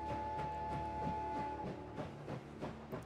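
A train departing in the video game Last Train Home, a steady rhythmic clatter of wheels over rail joints with a sustained whistle-like tone at the start, moderately loud and continuous with no talk.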